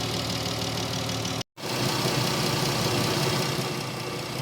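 A 2013 Chrysler Town and Country 3.6 engine with a freshly replaced alternator runs steadily at idle, a close, even mechanical hum broken by one brief dropout near the start.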